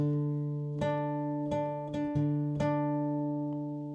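Guitar fingerpicks a pattern, about six plucked notes ringing over a sustained looped synth drone, clear and close with no voices.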